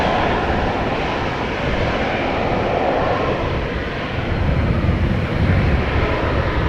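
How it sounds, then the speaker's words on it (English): An Air Astana Airbus A321neo jet airliner departing Amsterdam Schiphol for Atyrau gives a steady, loud, broadband engine roar that holds evenly throughout, swelling slightly near the end, with no talk. "Air Astana A320 or 21 Neo to Atirau. A321 Neo to Atirau."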